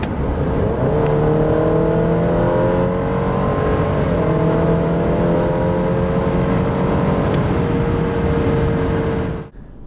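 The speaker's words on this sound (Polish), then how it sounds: "Oraz tak od 90 do 140 km na godzinę." A 2024 Alfa Romeo Giulia, 2.0-litre petrol with 280 hp, pulls from 90 to 140 km/h. Its steady, loud engine drone rises through the gears with a shift or two, then cuts off abruptly at the end.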